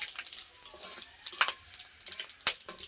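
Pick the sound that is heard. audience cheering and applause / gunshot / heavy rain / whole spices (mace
whole spices (mace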